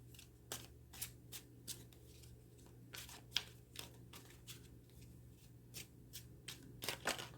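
Tarot cards are shuffled close up in quick riffling bursts, about a dozen sharp papery flicks spread across the stretch over a quiet low hum, with no speech.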